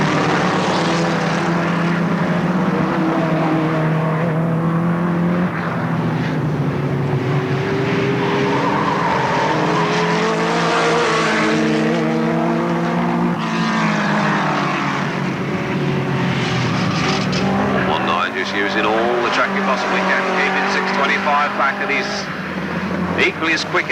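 Race cars battling on the Alwalton Raceway oval in 1983, engines revving up and down loudly as they pass and corner, one roaring over the other in rising and falling sweeps, with a commentator talking over the noise.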